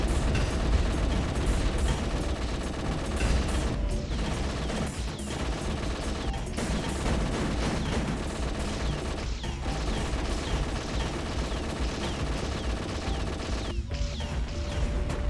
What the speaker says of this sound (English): Harbinger cannon is so good.